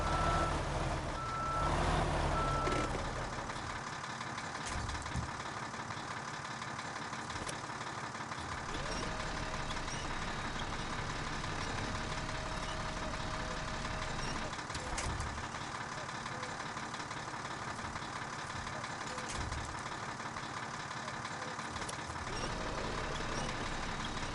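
Truck in the Snowrunner video game, its engine idling with a steady low drone while repeated reversing beeps sound throughout at moderate volume.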